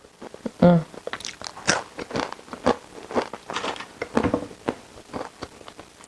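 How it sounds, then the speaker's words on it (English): Close, crisp bites and chews of homemade fried plantain chips, a sharp crunch at first and then a string of irregular crackly chews that gradually soften, with no talking. "So crunchy, so plantainy, so tasty, so good."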